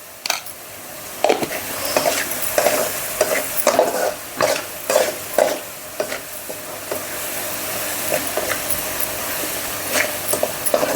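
Onions fry in a pan while cooking grill chicken, with repeated close stirring scrapes and clinks over a steady sizzle and no talking.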